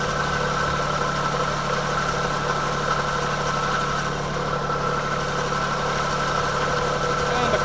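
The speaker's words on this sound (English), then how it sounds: "So let me get the battery hooked up, and then we'll give the winch a test." Electric winch powered by a trailer battery on a running test, giving a steady droning motor hum with a constant pitch that holds evenly throughout, close by and alone.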